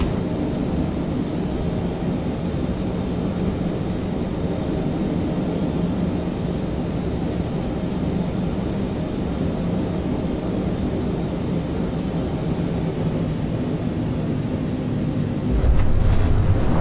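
A Boeing 777-300ER landing in Microsoft Flight Simulator on the way to Dubai, heard as a steady, loud engine and wind roar lasting the whole stretch, with a heavier rumbling thump near the end as it touches down.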